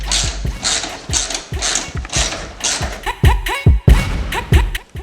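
Ratchet wrench clicking steadily while four bolts are backed out of an engine during teardown, with bursts of metallic ratcheting and clanks of tools and parts, close and fairly loud, no talking.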